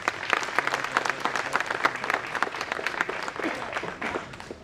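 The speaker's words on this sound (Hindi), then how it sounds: "तो एक बारी आप लोगों के लिए ताली." An audience at a community meeting for an independent ward election candidate breaks into lively applause, a dense crackle of many clapping hands that carries on steadily before easing slightly at the end.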